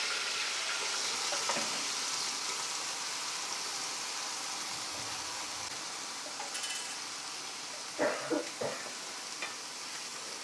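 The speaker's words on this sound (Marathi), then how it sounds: "तेल गरम झालं की त्यामध्ये कढीपत्ता टाकायचा कढीपत्ता त्यानंतर कांदा आणि टोमॅटो" Curry leaves, onion and tomato frying in hot oil, a continuous hissing sizzle close by with a few brief utensil clinks and stirring bumps toward the end.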